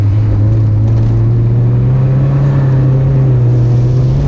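A stock Mazda Miata engine roars loudly and steadily, its low droning note holding strong throughout as it pulls under throttle, with no voices.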